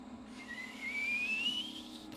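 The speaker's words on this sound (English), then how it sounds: "She already did when you first spool up and that turbine is kicking in. Sounds like a jet throttling up" A diesel truck's turbo in GTA 5 whistles as it spools up, a thin rising tone that climbs steadily over about two seconds above a steady low engine drone, with no talking.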